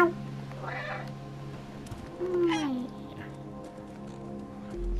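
In the video game Stray, a cat meows a few times, one drawn-out meow standing clear amid game ambience, while a person talks and another voice imitates the meow.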